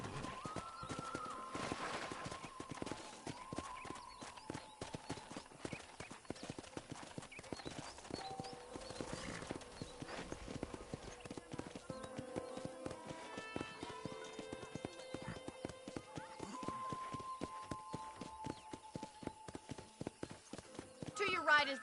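Horse hooves clip-clop steadily while riding in the Red Dead Redemption video game, a brisk regular rhythm with music and a talking voice over it.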